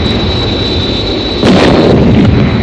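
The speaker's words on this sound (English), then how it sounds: "They may try ground-to-air missiles." Ground-to-air missiles fired at an aircraft as a TV sound effect: a steady high engine whine under a dense rumbling roar that swells abruptly into a louder burst of blasts midway and holds to the end.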